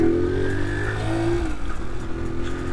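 A 2005 Honda Dax 90 replica motorcycle engine runs steadily while riding, its pitch rising and then dropping around a gear change, loud and close throughout.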